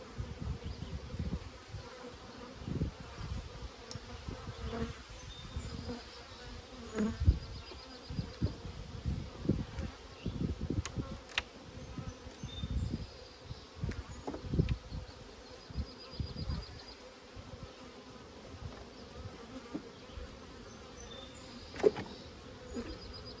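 Honeybees buzz steadily around an open beehive during hive maintenance, a dense continuous drone with individual bees flying close past in brief louder swells, no voices.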